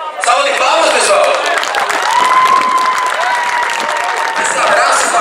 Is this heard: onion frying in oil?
no